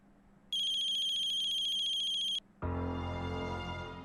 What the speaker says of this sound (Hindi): आई, तेरा फोन बज रहा है।